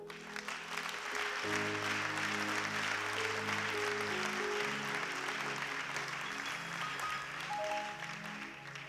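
Sustained, loud applause from a church congregation fills the space evenly from start to finish, with sustained musical tones running beneath the clapping throughout.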